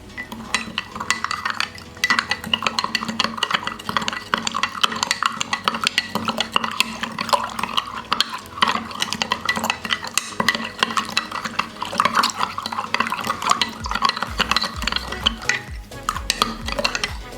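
Chaat masala and lemon juice being mixed in a bowl for fruit chaat, producing a continuous close rattle of a spoon clinking and scraping around the bowl, steady and fairly loud with no talk.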